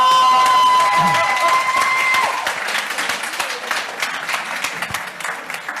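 An audience at a public speaking event breaks into applause, loud and dense at first and then thinning into scattered claps with a few cheers, while a voice is briefly heard over it.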